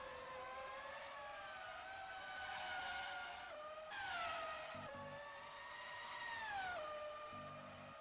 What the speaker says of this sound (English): the sound of the cars is incredible